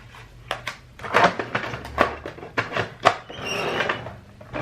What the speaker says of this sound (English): I'm trying to like fit stuff in here so I can close these dang drawers